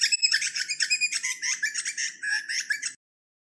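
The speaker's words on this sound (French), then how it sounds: "L'oiseau de boucherie." An Australian butcherbird calls up close in a rapid run of bright, warbling chirps and whistles lasting about three seconds, with no other sound.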